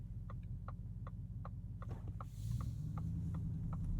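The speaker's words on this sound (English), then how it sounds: "Now for the turn signal sound." Turn signal of a Ford F-150 Raptor R, a steady series of soft, evenly spaced clicks over a low cabin hum, about two per second, with a rise in engine or road rumble partway through.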